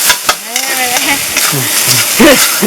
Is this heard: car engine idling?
no